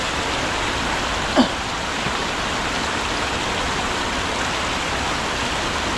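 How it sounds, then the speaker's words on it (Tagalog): Heavy rain pouring steadily over an old dam, a dense, even hiss filling the whole stretch at constant loudness, with one brief faint tap near the start and no voices. "Ayun oh, umulan na naman. Lakas na ng ulan."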